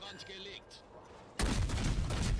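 Naval gunfire from the destroyer Udaloi in World of Warships: a sudden loud broadband blast of a salvo erupts midway and rumbles on, after a quieter stretch of low engine and sea ambience.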